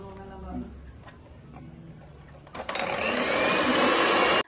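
An electric hand mixer whirs as it beats egg yolks with sugar for a tres leches milk cake. Quiet, clicky handling comes first, then the motor surges into a loud, steady whine that runs to the end, with a person talking under it.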